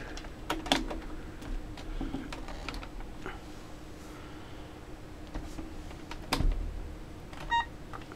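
A computer keyboard plugged into a Tiger Learning Computer is typed on in quiet, sparse, irregular clicks and taps, with a brief electronic beep near the end.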